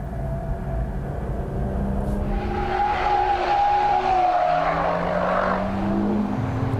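An Aston Martin Vanquish with a naturally aspirated V12 screams at speed on a track, pitch climbing and dropping through gears with tire squeal mixed in, loud and close, no talk.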